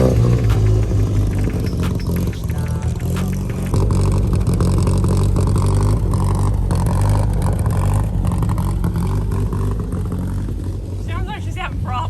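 A small MG Midget sports car's engine drones steadily and loudly from inside the cabin while driving, with a low rumbling hum throughout and speech over it.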